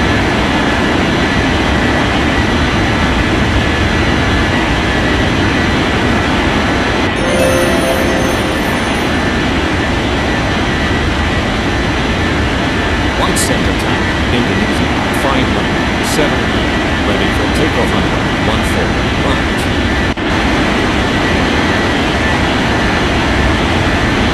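Aircraft engines drone in a steady, loud roar during takeoff in Unmatched Air Traffic Control, with spoken controller instructions over the sound.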